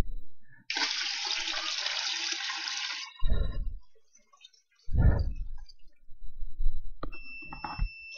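Water poured from a bucket into an empty ultrasonic level-sensor tank, a loud gushing pour for a couple of seconds followed by sloshes and splashes, then faint electronic beeps near the end.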